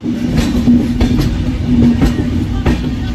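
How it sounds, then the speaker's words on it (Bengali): Loud, continuous rumble of the Gitanjali Express passenger train departing Kharagpur, with rhythmic clicks of wheels over rail joints and a steady low drone. "খড়গপুর থেকে ছেড়ে যাচ্ছে আমাদের ট্রেন এখন।"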